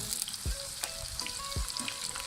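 Onions frying in hot ghee for green chilli chicken fry give a steady close sizzle, with a few soft clunks of stirring or moving onions and no voices.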